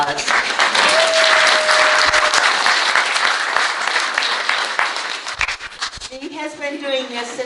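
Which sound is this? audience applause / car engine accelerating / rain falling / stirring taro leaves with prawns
audience applause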